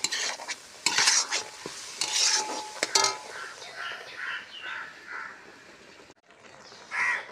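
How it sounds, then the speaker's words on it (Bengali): Spices fry and sizzle in a wok while a utensil stirs and scrapes close by in bursts, with a crow cawing in the background and a brief pause near the end. "এখন মশলাটা ভেজে দিই, মশলাটা কড়াইতে দিলাম"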